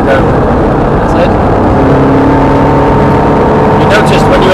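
A Ferrari F430 sports car on track at Thruxton Circuit, its engine droning steadily and loudly throughout with a continuous mechanical roar and a slight rise in pitch toward the end.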